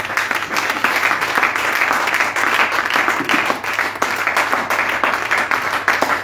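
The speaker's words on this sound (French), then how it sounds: "Acclamons le Seigneur Jésus." A church congregation applauding during a Sunday service, dense sustained clapping from many hands at close range, steady and loud throughout.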